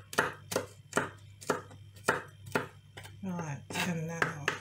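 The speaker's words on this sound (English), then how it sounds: "just finishing off chopping the garlic here" A knife chops garlic on a cutting board in steady, sharp, close knocks about twice a second, and a voice briefly speaks near the end.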